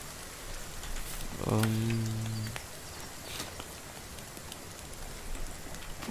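Rain keeps falling on a forest survival camp with a leaf shelter, a steady hiss of drops under a brief low droning tone and a few scattered taps.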